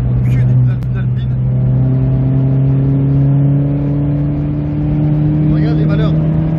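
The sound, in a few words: Ford Fiesta ST engine revving on a race-track warm-up lap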